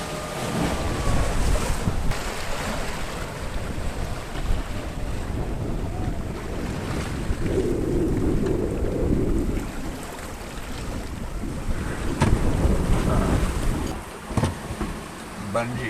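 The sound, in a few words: choppy steep ocean waves against a sailboat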